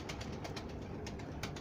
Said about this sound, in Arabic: هاي طيور مالاتي